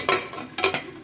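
A dhokla plate is set into a steamer pot over boiling water, giving two short metallic clinks and scrapes about half a second apart, close and moderately loud.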